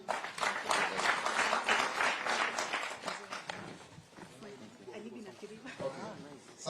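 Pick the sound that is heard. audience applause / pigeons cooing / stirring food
audience applause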